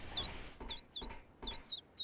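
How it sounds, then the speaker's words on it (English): Small birds chirping in a game scene, six short high sharp tweets arriving in a quick uneven series, close and clear against a quiet background with no talking. "Hello, birdies."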